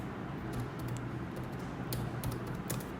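Quick bursts of key taps on a computer keyboard, several light clicks in uneven runs over a faint steady hum, close and quiet with no talking.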